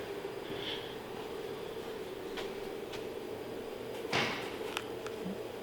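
Doors and cupboards opening and closing indoors, heard as a few faint, scattered knocks and clacks, one slightly louder, over a steady low hum and hiss.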